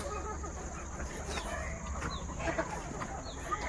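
Free-range village chickens in a two-storey poultry house in the evening, scattered clucks and soft calls with faint distant crowing over a steady hum, no clear talk.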